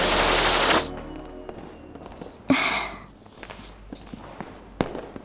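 Diwali firecrackers go off outdoors: a dense crackling fusillade fades out, followed by a loud bang with a hissing tail and scattered sharp pops at varying distances.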